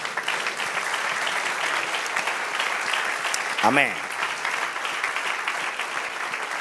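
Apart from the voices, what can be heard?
congregation applause in church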